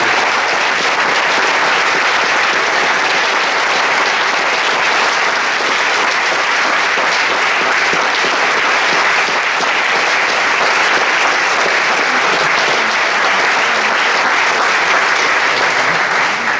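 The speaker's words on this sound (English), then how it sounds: "So let's give Randy one more round of applause" Sustained loud applause for Randy at a percussion alumni reunion concert, a thick, unbroken roar of clapping from a full audience that continues evenly for over fifteen seconds.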